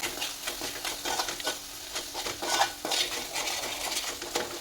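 Corn curry with salt is mixed in a pan, with repeated close scraping and clinking of a spoon against the pan over a soft, continuous frying sizzle.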